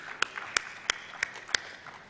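A few sharp, separate claps ring out at a valedictory session honoring lecturers and Yakshagana performers, five distinct hand claps spaced evenly over a quiet room rather than full applause.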